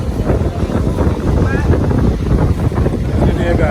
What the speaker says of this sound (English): Windy day, guys.